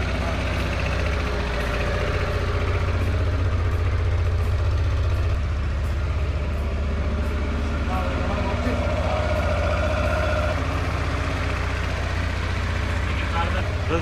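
A cafe racer motorcycle idles with a steady low rumble throughout, close and constant, while people talk nearby.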